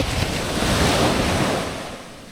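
Small, dumpy ocean waves break and wash onto the shore on a calm morning. The surf rushes and swells, then fades, with wind noise on the microphone and no voices.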